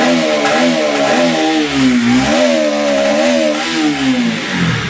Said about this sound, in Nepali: बाइक झुक झुक झुक झुक गर्छ है